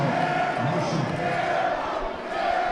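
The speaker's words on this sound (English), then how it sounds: "As you can hear the crowd screaming air ball." A basketball game crowd in a gym roaring and yelling steadily and loudly throughout, a dense wash of voices at a high school matchup.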